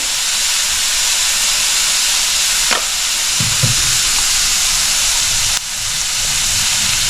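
Spinach curry sautéing in a pan with popped mustard seeds, a steady loud sizzle and hiss with a few faint stirring clinks.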